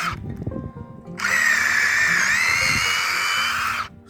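A power drill whines steadily for a few seconds as it bores at a slight angle into a maple tree, its pitch dipping slightly midway, close by, after a brief rustle of handling.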